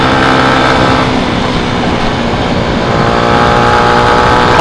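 Motorcycle riding along a winding, curvy road, its engine a steady loud drone with wind rush throughout, no pauses or talk.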